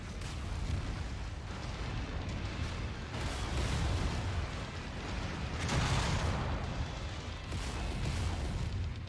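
A destroyed mech explodes in MechWarrior 5, giving a sustained, loud rumbling roar of blasts and debris with heavier surges in the middle, dense and continuous throughout.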